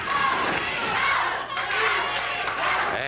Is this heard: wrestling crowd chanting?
yes